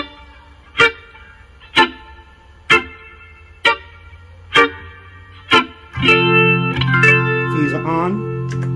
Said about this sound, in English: Now, of course, with the phaser off, up, listen to when the phaser comes on.